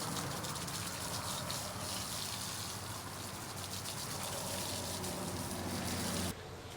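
Running water gushes over dirty boat parts being rinsed at a boatyard, a continuous, even splashing rush that holds steady for several seconds before dropping off abruptly near the end.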